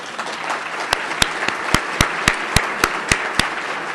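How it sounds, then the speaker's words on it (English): A room of standing attendees applauds at a project delivery summit's opening remarks, with diffuse crowd clapping under a few loud, evenly spaced nearby claps from one person. "Let's give these folks a round of applause"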